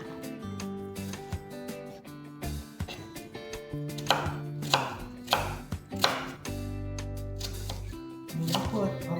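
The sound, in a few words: knife chopping onion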